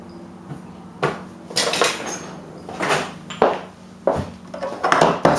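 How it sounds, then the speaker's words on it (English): Pestle and mortar handled while rosemary and garlic are mashed for roast lamb, a series of loud close clinks and knocks in an irregular rhythm. "Pestle and mortar."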